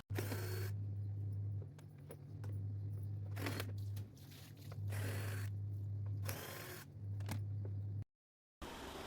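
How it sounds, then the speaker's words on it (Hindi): Screws are backed out of the blower housing of a kitchen chimney hood during a full service, giving steady mechanical ratcheting and clicking over a loud continuous hum that cuts out near the end. "अब दोस्तों ब्लोअर को खोल लेते हैं, इसके भी स्क्रू लगे होते हैं आसपास के।"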